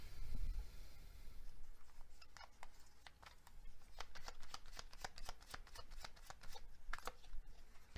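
Tarot cards are shuffled in a rapid run of soft riffling flicks and taps, close and quiet, before a clarifying card is drawn.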